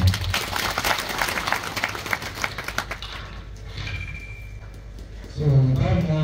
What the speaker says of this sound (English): This is a round of applause for you.